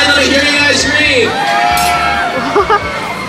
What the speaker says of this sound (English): Let me hear you guys scream.